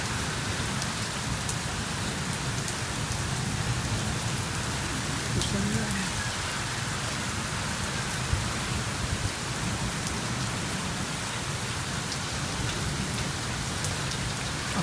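Steady rain pours over Karachi during the first rain of the season, a dense continuous hiss of drops on surfaces that holds even and fairly loud throughout, with no distinct single drops standing out.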